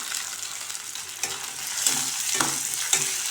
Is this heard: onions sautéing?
yes